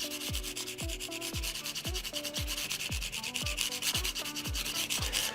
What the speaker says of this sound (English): Take a moment as well and kind of sand off the sharp edges on the end of your fret board